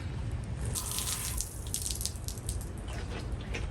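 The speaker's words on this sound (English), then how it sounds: "So let's get this stuff out of the evaporust and then I'll rinse it off." Running water rinses rusty parts from a Schauer Model B4612 battery charger after soaking in Evapo-Rust, a faint steady splashing and trickling with light rattles, continuous throughout, no voices.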